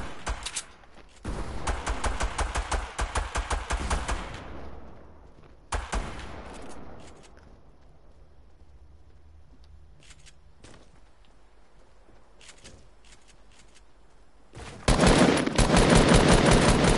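Video game gunfire rattles in loud automatic bursts, a long sustained volley first, then a short one, scattered single shots, and a final dense burst at the end.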